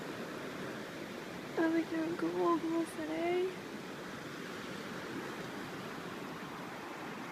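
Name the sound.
river flowing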